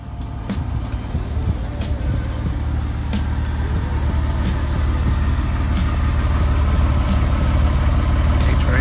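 A Porsche 997 engine runs steadily, a low, even rumble heard from inside the car with no change in pitch, joined by faint periodic clicks.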